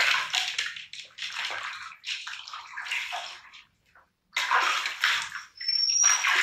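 Water sloshing and splashing as a Labrador puppy is bathed in a tub, coming in close bursts with a brief pause midway and a short squeak near the end.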